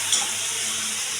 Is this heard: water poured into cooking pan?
yes